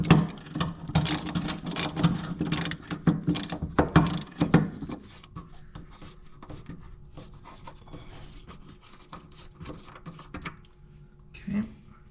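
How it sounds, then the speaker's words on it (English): Socket wrench ratcheting off the top nut of an air spring on a 1995 Honda Goldwing trike: quick clicking ratchet strokes, busy at first and then sparser, with a faint voice in the background. "we're going to remove the top nut using an 1/16 socket"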